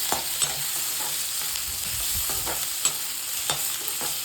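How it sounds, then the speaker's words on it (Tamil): Onions and tomatoes sautéing in a pan over a medium flame, a steady bright sizzle with a spoon stirring and scraping in soft intermittent strokes, close and continuous, with no voices. "தக்காளியும் போட்டு வெங்காயமும் தக்காளியும் வதங்கணும்."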